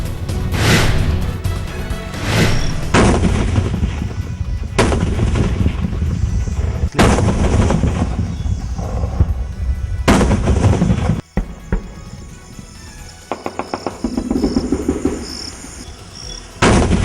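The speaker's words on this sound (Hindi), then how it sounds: "बीएसएफ के अब्दुलिया और कारोटना कुर्द पर पाकिस्तान की ओर से जोरदार फायरिंग" Heavy gunfire and mortar rounds fired at night across the India–Pakistan border at the Abdulia and Karotana Khurd posts: loud repeated blasts and sharp cracks in uneven bursts over a constant insect chirr, with rapid clusters of shots near the end.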